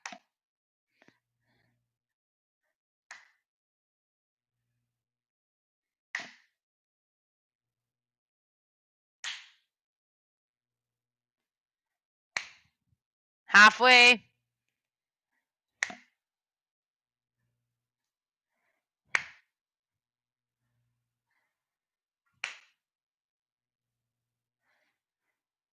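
Single hand claps during a jumping jacks exercise in an adaptive fitness cardio class, sharp and fairly faint, spaced evenly about every three seconds over near silence, with one brief spoken word partway through.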